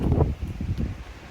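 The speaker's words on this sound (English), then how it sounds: "It is getting windy." Wind blows outdoors in the Adirondacks as a low, rumbling buffet against the microphone with rustling gusts, steady and fairly loud, with no voices over it.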